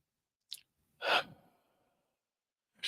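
A deep meditative breath drawn in slowly and released with a soft sigh, one audible breath in a quiet room with a small sniff before and a faint breath trailing at the end.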